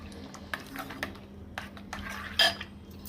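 A spoon stirs flavouring into milk in a metal pot, giving soft scattered scrapes and clinks against the sides, close and quiet, with one sharper knock near the end.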